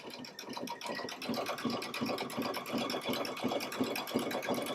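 A Baby Lock sewing machine runs a triple stitch through fabric with a fringe/looping foot, a quiet, fast and even mechanical chatter of needle strokes repeating steadily throughout.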